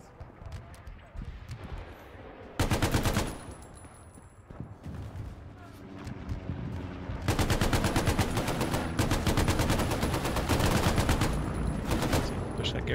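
A Bren gun fires in the El Alamein video game as a short burst and then long sustained rapid-fire bursts, loud and close, with background game noise between them.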